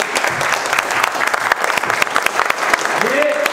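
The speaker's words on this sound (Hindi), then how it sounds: "एक बार जोरदार ताली बजा दो इस चीज के लिए" Steady applause from a group in a classroom-style room, close, continuous clapping with a voice briefly speaking at the end.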